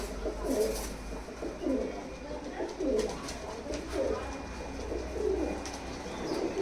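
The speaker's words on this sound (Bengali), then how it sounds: "ছাব্বিশ থেকে সাতাশ পিস পাড়া টেডি পাড়া এখানে আছে" Teddy pigeons in a loft with several birds standing, cooing in repeated low rounded phrases that rise and fall every second or so, layered over a steady background hum and noise.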